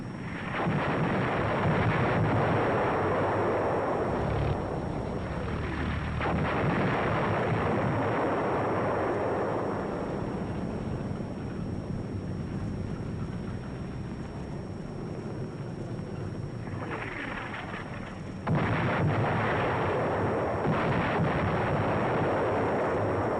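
Heavy WWII artillery shelling in an archival film sequence, with dense, rumbling, continuous booms and blasts crowding the track at steady loudness, without any voices.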